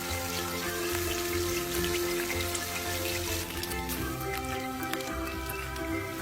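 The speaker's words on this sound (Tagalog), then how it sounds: "prituhin isa-isa ang pork belly na binabad natin kanina hanggang mamula" Marinated pork belly fries in a pan with a steady, dense sizzle and crackle that holds evenly throughout, close and fairly loud with no talking over it.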